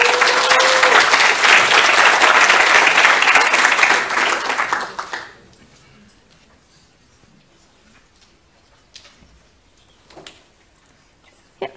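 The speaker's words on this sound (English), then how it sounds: "So please give her an applause." Loud audience applause at a Synapsium 2018 scientific talk on ALS research, dense clapping for about five seconds that then fades out, followed by near-quiet room tone with a few faint bumps.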